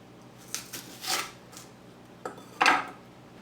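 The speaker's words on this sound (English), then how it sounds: "So, I think I want to cut like in half again" Knife slicing onion into long pieces on a board, several crisp cuts in two bursts with a louder final chop, no talk.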